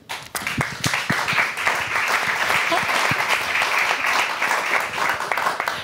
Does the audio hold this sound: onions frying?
no